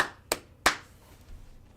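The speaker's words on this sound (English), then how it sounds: "Round of applause." Two sharp handclaps, close and fairly loud, in quick succession with a brief room tail, followed by quiet background.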